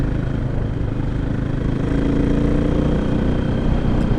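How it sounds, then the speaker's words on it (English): Japanese high-performance magnesium alloy motorcycle engine running with a loud, steady, throaty rumble and no pauses, close by. "This is a high performance magnesium alloy engine."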